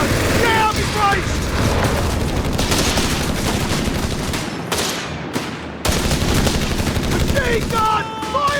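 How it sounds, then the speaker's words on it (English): Rapid bursts of machine gun fire and booming explosions in the Company of Heroes 3 video game during a 4v4 battle, loud and dense, with brief gaps and shouted voices mixed in. "Machine gun! Fire!"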